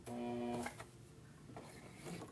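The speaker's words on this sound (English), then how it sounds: "And then I'm just going to sew over it again." Sewing machine stitching back over elastic on a grocery bag holder, a short buzzing burst of needle action followed by quieter intermittent whirring.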